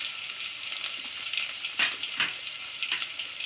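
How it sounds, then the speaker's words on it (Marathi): Curry leaves and finely chopped onion fry in oil with spluttered mustard seeds, a dense close sizzle with a few sharper crackling bursts and light stirring, no voices. "आता मोहरी तडलेली आहे, त्याच्यात मी कढीपत्ता घालणार आहे, नंतर बारीक चिरलेला कांदा"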